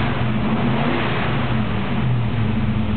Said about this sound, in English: I wanted to just let you hear how strong the motor is